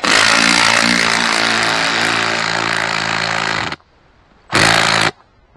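A power tool drives an earth anchor into the ground to tie down a tower stand hunting blind, roaring loud and steady for nearly four seconds, then after a brief pause bursting again for another half second.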